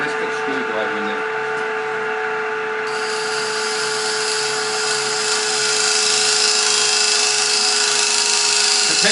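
A screwdriver spinning against a perpetual motion device gives a steady high-pitched whirring whine, growing brighter partway through and continuing throughout.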